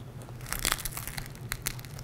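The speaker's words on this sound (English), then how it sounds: "Slice into it. Hot, steamy slice of bread, tender and moist on the inside, crispy on the outside." A knife cuts through crock pot bread with a crispy crust and a tender, moist inside, making close, crisp crunching crackles in a few short bursts.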